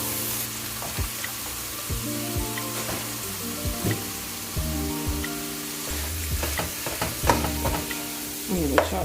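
Beef frying in a hot pan, a steady close sizzle broken by regular knocks and scrapes as the meat is chopped and stirred, with no one speaking.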